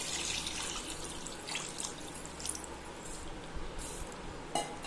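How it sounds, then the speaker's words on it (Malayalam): A cup of water poured into a cooking pot of cooked vegetables makes a soft continuous splashing and trickling, faint and close, with no voices. "ഇതിലേക്ക് ഒരു കപ്പ് വെള്ളം ഒഴിച്ചു കൊടുക്കാം."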